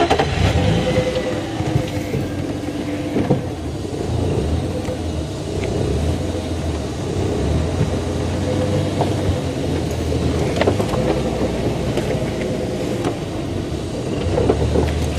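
A safari game-drive vehicle creeps forward on a sunset drive through the bush, its engine giving a steady, close, low rumble that swells slightly as it moves, with no talking.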